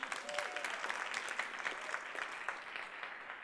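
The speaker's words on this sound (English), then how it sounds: "So by applause, who would like to hear about using social media to advance skepticism?" A conference audience applauds to vote for a talk topic, giving a dense, faint patter of many hands clapping for about three seconds before it tapers off.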